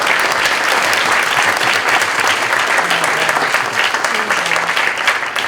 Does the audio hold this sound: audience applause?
yes